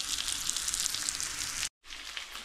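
Pomfret fish frying in a pan, a steady bright sizzle of hot oil close up that cuts out for a brief moment and then resumes.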